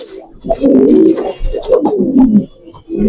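Pigeons kept for sale in Mirpur, Dhaka, give close, throaty coos in rolling bursts with short pauses between them, loud and near.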